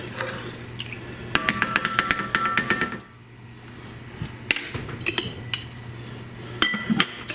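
Kitchen utensils such as pizza cutters, spatulas and spoons rattling as a junk drawer is rummaged through: quick metallic clinks and clatters in close bursts, a brief quiet gap, then more jangling near the end.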